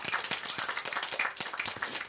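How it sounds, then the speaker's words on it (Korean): A church congregation clapping together, a dense, lively patter of many hands at moderate distance. "하나님께 우리 다 같이 영광의 박수 드리겠습니다."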